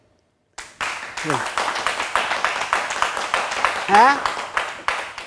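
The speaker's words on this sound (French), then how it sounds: "Applaudissez." Audience applause in a French talk-show studio, a burst of rhythmic clapping that starts abruptly and carries on for several seconds, with voices speaking over it.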